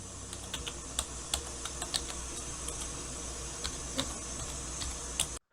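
Steady typing on a computer keyboard, a continuous run of close, crisp key clicks with occasional louder taps, with no talking, ending abruptly.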